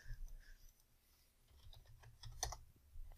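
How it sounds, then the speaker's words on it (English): Quiet clicking of keys on a computer keyboard while a command is typed into Civil 3D drafting software, coming as a short, irregular run of soft taps. "So I just type it in."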